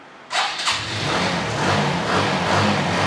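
A used motorcycle engine is self-started with a short whir from the starter, then catches and keeps running close by at a steady, rough idle.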